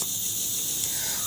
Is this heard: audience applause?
no